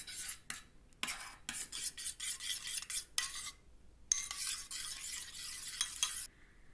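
A homemade face pack paste is mixed in a bowl with lemon juice added, giving close, bursty scraping and stirring strokes with short pauses between them and no talking.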